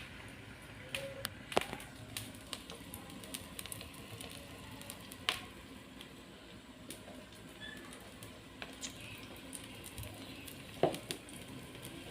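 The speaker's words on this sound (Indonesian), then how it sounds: "Sudah agak mau mendidih." A pot of Betawi pindang bandeng (milkfish soup) simmers toward a boil, with faint steady bubbling and hiss broken by occasional sharp ticks and clinks; no one speaks.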